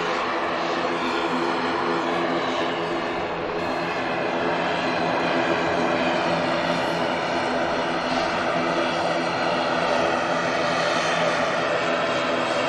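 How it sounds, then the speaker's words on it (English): An ATR turboprop airliner at Manchester Airport drones loud and steady, a continuous engine and propeller roar filling the whole stretch without letup. "the very noisy ATR. The microphones are nearly off for you. It's still blasting me out."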